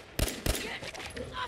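Gunfire from a firefight in the video game Fallout 4: two sharp, loud shots ring out close together near the start, followed by quieter crackling shots and scattered battle noise.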